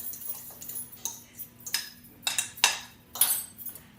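Eggs beaten for an omelet stirred in a bowl with a utensil, giving a series of light, fairly close clinks and scrapes in an irregular rhythm, with no talking.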